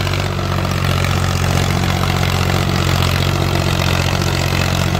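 A 2006 Powertrac 445 tractor's diesel engine runs steadily up close, a loud, even low throb with a constant chug and no talk, while it works with an 18-disc harrow.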